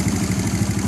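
A motorcycle engine idles nearby in a Punjab village, its low, throbbing pulse steady and even through a brief moment with no one talking.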